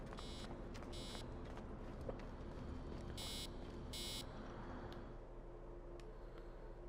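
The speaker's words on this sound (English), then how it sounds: "Yes, because it's beeping and telling me to." Repeated electronic beeping from the Animus in the video game Assassin's Creed Origins: several short bright tones pulse over a steady low game ambience, with no talking.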